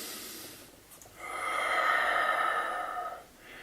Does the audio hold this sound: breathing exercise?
yes